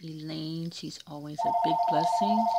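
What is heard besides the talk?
telephone ringing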